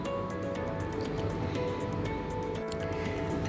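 Nimko dough of dry ingredients, oil and a little water being kneaded by hand, giving steady wet squishing and squelching close up, continuous and fairly loud.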